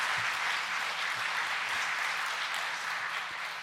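A church congregation applauds a priest after his lecture, a sustained, even burst of clapping that fills the room with no one speaking over it.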